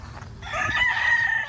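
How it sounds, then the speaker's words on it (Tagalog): A rooster crows once on a farm, a loud rising call held for about a second, nearby over faint background noise. "Manok."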